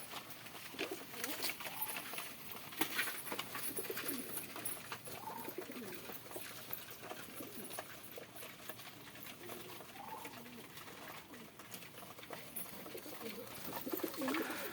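King pigeons feeding in a loft, soft low cooing mixed with pecking and shuffling, faint and continuous.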